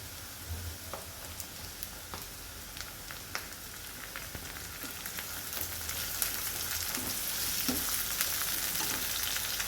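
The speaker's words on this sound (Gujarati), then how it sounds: "ડુંગળી આપણી સતળાઈ ગઈ છે તો આપણે ટામેટા નાખીશું." Tomatoes go into frying onions in a pan, a constant crackling sizzle with light stirring scrapes that grows slightly louder and denser toward the end, no voices.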